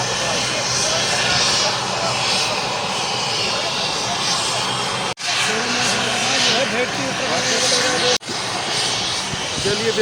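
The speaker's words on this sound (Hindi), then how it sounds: "जो ये लैंड हो गया है हेलीकॉप्टर का" A helicopter sits on a school sports ground in Kotdwar just after landing, its engine and rotor giving a loud, continuous roar that fills the whole stretch, with two brief dropouts.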